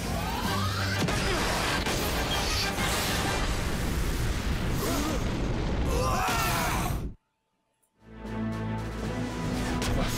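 A fire-wave special shot in Inazuma Eleven 3 on the 3DS: a loud, dense burst of fiery whooshing and crashing game effects lasting several seconds, then a sudden drop to near silence before game sounds resume.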